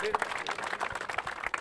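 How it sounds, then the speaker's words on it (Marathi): Audience clapping at a cricket tournament prize distribution, a short burst of brisk scattered applause from a small crowd, with voices mixed in. "जोरदार टाळ्या"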